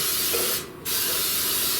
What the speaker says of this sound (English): I'm using my Baker's Joy because I like to grease and flour it.